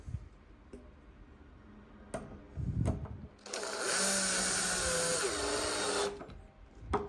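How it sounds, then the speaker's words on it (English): A power drill driving screws into a digital deadbolt during installation, preceded by a few clicks and handling knocks, then a loud whirring run of about two seconds with a shifting pitch before stopping, and another click at the end. "if you put a drill on behind it, which I'm trying to do"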